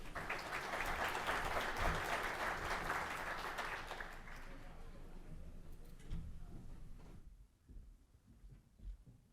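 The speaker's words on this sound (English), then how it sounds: "Big round of applause." An audience at a hotel revenue management and distribution conference in Australia applauds a panel, with loud, dense clapping that fills the room for several seconds and then gradually thins out and fades away.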